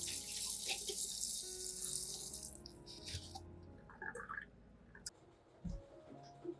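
Cold tap water splashes over lettuce for a few seconds, then stops, followed by quiet drips and soft handling noises nearby.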